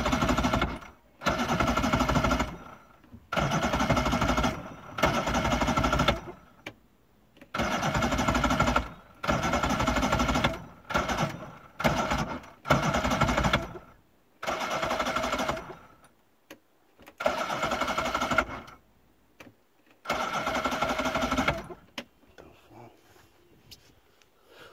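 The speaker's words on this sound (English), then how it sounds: "Trying to start this boat." A Johnson V4 outboard boat motor that won't start cranks over repeatedly in long loud bursts of whirring, separated by short pauses, about ten attempts without catching, heard up close with occasional voice.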